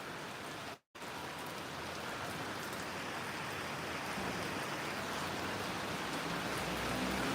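Heavy rain pours steadily in Virar, a dense continuous hiss of drops on surfaces that holds loud and even throughout, broken only by one brief dropout near the start.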